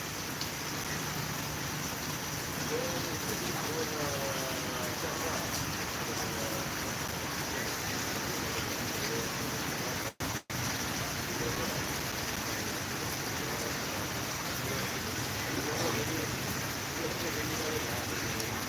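Steady rain falls as a dense, even hiss that runs without a break for the whole stretch apart from one very brief dropout, with faint murmuring voices underneath.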